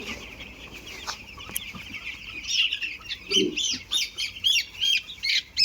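Seven-day-old broiler chicks cheep and peep in a poultry shed, high chirps rising into a busy cluster of calls toward the end, with faint background hum.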